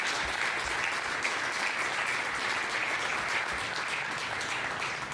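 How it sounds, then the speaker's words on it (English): Steady applause from a press conference audience after the 2019 MASL Ron Newman Cup championship in Milwaukee, a dense, even wash of clapping that holds at the same level for the whole stretch with no voices on top. "So if we could just give you a quick round of applause, I'd appreciate it."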